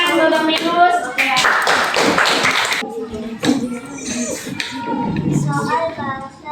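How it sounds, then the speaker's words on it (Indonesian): Children in a classroom clapping for a classmate, uneven bursts of small hands mixed with taps and kids' chatter, loud and close. "Tepuk tangannya dulu sayang untuk Minus"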